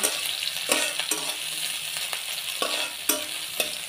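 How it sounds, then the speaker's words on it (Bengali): Chopped onions fry in a pan with a steady close sizzle, punctuated every half second or so by the scrape and knock of a spatula stirring them. "এক মুঠ পেঁয়াজ কুচি দিয়ে দিলাম। এখন নেড়ে চেড়ে ভেজে নেব।"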